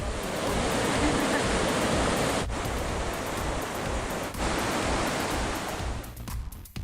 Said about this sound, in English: we stopped for a while to enjoy the sounds of the rushing water